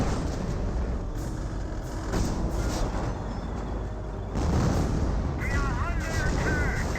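Heavy tank cannon fire and shell hits during a Company of Heroes battle, including a Cromwell tank scoring hits, booming blasts and rumbling explosions layered with battle noise while a commentator talks over it.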